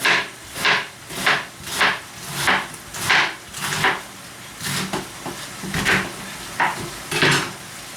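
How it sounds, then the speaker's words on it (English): Cabbage being shredded with a knife on a cutting board for beef oxtail soup, a steady run of about a dozen close, crisp chopping strokes in an even rhythm, with no talk. "Some cabbage. Just going to shred it up."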